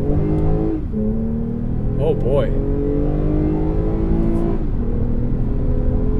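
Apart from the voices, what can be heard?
Toyota Avalon TRD exhaust accelerating in sport mode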